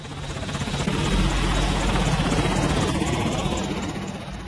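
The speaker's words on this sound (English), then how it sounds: "the United States Armed Forces recently deployed dozens of AH-64 Apache combat helicopters" Military AH-64 Apache attack helicopters in flight, a steady loud rotor drone and engine buzz throughout, thick low thrum with continuous throb, close and dominant with no other sounds.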